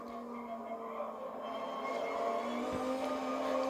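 A race car in Gran Turismo Sport powering out of a corner while chasing rivals for a slipstream: a steady, whining engine tone that swells slightly as it accelerates, with a faint rival car nearby.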